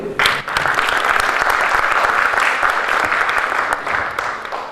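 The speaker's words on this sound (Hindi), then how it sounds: "क्या आप तालियां बजाएंगे इनके लिए?" An audience claps loudly and continuously at a law chambers anniversary event, a dense, close, even roar of hands that starts abruptly and tapers slightly at the end.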